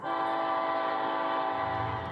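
A northbound freight train approaches in the dark of night in northern Mexico, with a long, steady, loud horn blast over the low rolling rumble of the cars.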